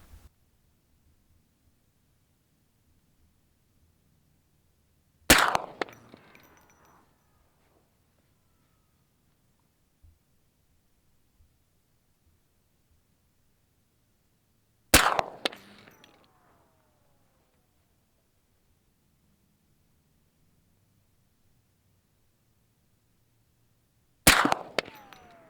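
Three sharp, loud shots from a suppressed .458 SOCOM rifle firing 23-grain reloads, spaced about ten seconds apart, each a crisp crack with a short trailing echo over a quiet outdoor background.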